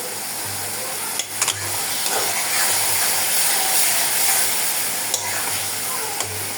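Fish sizzles and spits steadily in hot oil as garlic paste is stirred into the pan, with a continuous loud frying hiss and occasional scraping, no talk.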